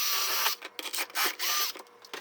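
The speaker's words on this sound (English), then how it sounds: "I use the 13/64 drill bit to do that." A power drill with a 13/64 bit bores a mounting-bolt hole on a street-legal XR100R dirt bike build, giving short, close whirring bursts that stop and start in an uneven rhythm.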